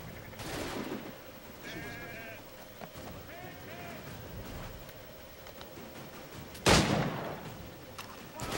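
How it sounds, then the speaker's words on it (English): One loud, sharp gunshot cracks out near the end of a quiet video game scene, over a low backdrop of faint tonal sounds and soft murmurs. "Oh, I shot his foot."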